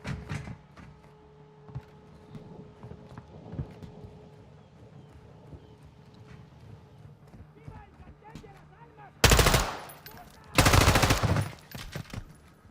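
Two loud bursts of automatic gunfire in a Call of Duty campaign mission, each lasting about a second, following a stretch of quieter game sounds and background noise.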